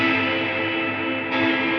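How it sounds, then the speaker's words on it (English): Electric guitar run through a Line 6 Helix with the reverb mix turned fully up, a steady washed-out sustained tone with long reverb tail, loud and close, no talking. "It mixes the full reverb sound with the direct tone"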